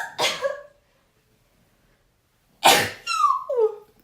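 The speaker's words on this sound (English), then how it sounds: "And I have to sneeze." Two separate sneezes from a person during a makeup routine, loud and close. The first is short and the second comes a few seconds later, followed by a trailing gasp or vocal sound.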